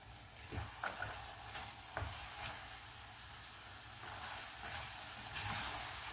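Olive oil sizzles in a hot pan for a grilled aubergine and pepper salad, giving a soft, steady frying hiss with a few faint clicks of stirring and a brief louder surge near the end.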